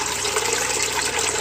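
A homemade guppy pond filter packed with sponges runs, with water flowing in a steady, dense rushing wash, close and even without pause.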